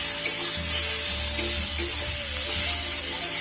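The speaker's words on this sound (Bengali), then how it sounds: "এইবার এটার মধ্যে দিয়ে দেব আমি একটা কুচিয়ে রাখা টমেটো" Chopped tomato drops into frying spice paste with onion and garlic for a fish curry, setting off a loud continuous sizzle with stirring scrapes and bubbling over a steady hiss.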